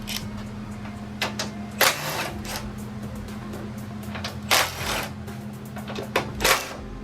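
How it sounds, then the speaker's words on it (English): Suspension bolts coming off an Acura RSX Type S during a suspension upgrade: a few short bursts of an impact wrench or ratchet with metallic clinks between them, close by, no talk. "we're gonna go ahead and pop these 3 bolts off, and she's gonna fall on at the bottom"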